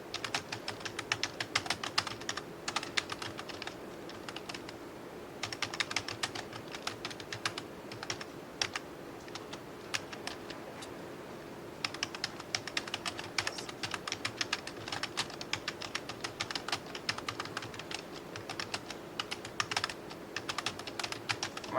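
Quiet, continuous typing on a computer keyboard, with rapid keystroke clicks in uneven bursts and brief pauses, heard alone in a calm room.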